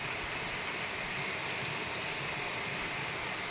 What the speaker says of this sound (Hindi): झमाझम बारिश लग चुकी है।